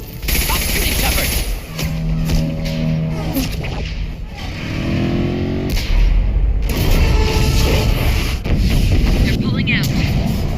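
Loud, dense gunfire and heavy weapon blasts in a Mass Effect 2 battle on Xbox Cloud Gaming, with continuous shots and rumbling impacts and voices talking over the fighting.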